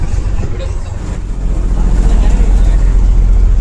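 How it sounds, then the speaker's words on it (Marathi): Boat engine rumbling as a tourist boat off Goa begins to move, a steady low drone that swells and grows louder partway through, with no talk over it. "बोट चालायला स्टार्ट झाली आहे बघा."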